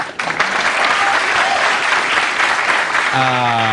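A late-night talk show studio audience in 1982 bursts into loud, dense, continuous applause for a guest introduction, a thick roar of many hands that fills the room before a voice starts talking over the tail.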